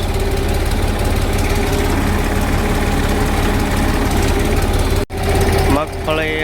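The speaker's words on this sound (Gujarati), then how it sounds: "પેલી બાજુ હલર હાલે છે" A groundnut huller engine runs in a field during peanut harvesting, giving off a loud, steady, low mechanical drone that continues without a break before cutting out sharply near the end.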